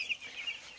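Young chicks from a hatchery peep at a small poultry farm of about 400 birds, a quiet, continuous stream of high, thin chirps from a nearby flock.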